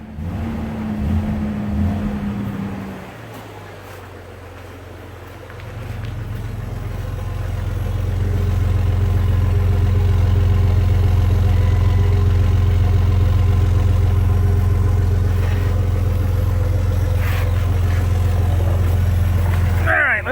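Jeep XJ running at idle with a freshly fitted muffler and tailpipe, a steady low, fairly quiet engine drone that settles in after a brief pause and holds evenly throughout.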